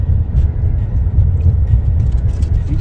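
Inside a car driving through the Mount Carmel tunnel in Zion, a steady low road rumble and engine drone fill the enclosed space, loud and continuous.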